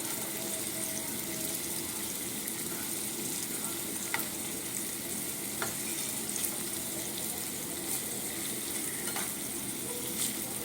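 Paneer cubes shallow-frying in a pan, a steady bright sizzle of hot oil with a few faint clicks of a spatula, continuous and close, no talking.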